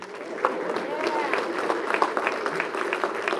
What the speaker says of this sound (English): Y'all clap for my school.